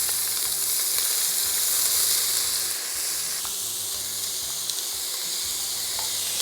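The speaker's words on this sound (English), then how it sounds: "We're gonna start with the sesame oil and saute some onions and garlic first." Onions and garlic sizzle and fry in hot sesame oil in a pan for a Trinidad-style pepper shrimp dish, giving a steady close crackle with occasional stirring.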